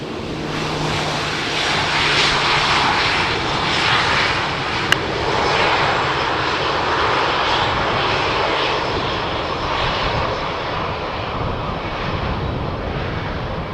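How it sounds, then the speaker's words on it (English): An Iberia Express airliner lands at Amsterdam Schiphol, its jet engines making a broad, loud roar that holds steady and then slowly fades. No one speaks over the engine noise. "This Iberia Express A380 coming in from Madrid."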